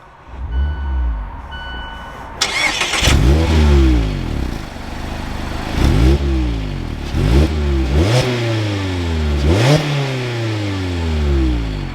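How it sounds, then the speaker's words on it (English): A 2021 Mazda MX-5 Miata RF Club with a manual gearbox cranks briefly and fires up, then settles into a close, loud idle punctuated by several sharp revs that rise and fall in quick succession. "now once inside with my foot on the brake and the clutch, it's time to start it up"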